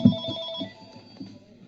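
A phone rings in a home, a short burst of ringing heard under low background noise, fading after the first ring.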